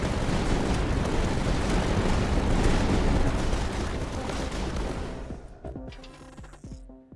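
Turret gunfire and explosions from a tower defense video game form a dense, loud wall of continuous blasts and firing. It thins out toward the end into scattered sharp shots and electronic tones.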